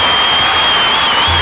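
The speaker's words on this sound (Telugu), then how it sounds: "సో మీ అందరికి ఎంతగా నచ్చిందో ఒకసారి మీ చప్పట్ల ద్వారా చెప్పండి." A studio audience at a singing competition show clapping loudly, dense and continuous applause with some crowd noise and no pauses.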